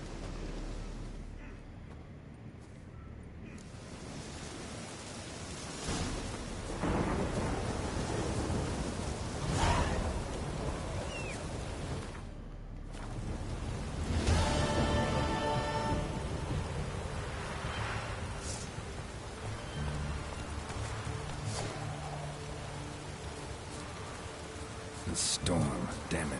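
A thunderstorm with heavy rain in a game scene near a herbalist's hut by Oxenfurt, a constant loud roar of rain broken by deep thunder rumbles and cracks, with voices speaking at moments.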